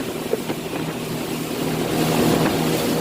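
Twin 225 Yamaha four-stroke outboard engines on a 2006 Polar boat drone steadily up close, with wind and water rush mixed in and the engine noise swelling slightly toward the end.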